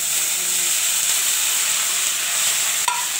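Water lily stems hit hot oil and fry with mustard in a continuous close hiss and sizzle, with a single small clink near the end and no talk.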